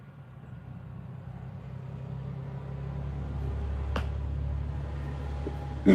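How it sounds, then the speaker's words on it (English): A car passes by outdoors near a park, a low, steady road rumble that swells gradually over several seconds, with a brief click near the end. "Oh no, there's a car."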